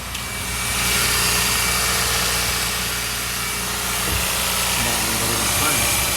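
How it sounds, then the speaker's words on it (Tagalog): A Toyota Vios first-generation car engine, under repair for an ECU fault, runs at a high idle: a steady, close, even rumble with a constant hum that barely changes level. "Try natin i-start. Ayan. Mataas ang idle."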